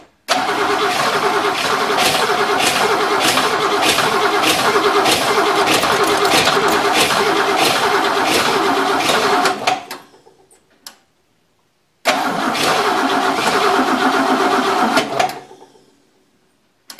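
An Oldsmobile car engine cranking and catching, running with a rapid rhythmic ticking chatter for several seconds before cutting out, then restarting briefly and dying again, loud and close.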